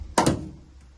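A van's passenger-side sliding door closing, a single sharp near thud with a brief second knock right after, then a faint click as it settles.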